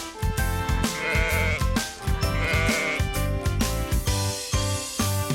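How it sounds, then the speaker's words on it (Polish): Repeated sheep-like bleats from a ram, loud and close, layered over steady background music with a rhythmic beat. "To baran!"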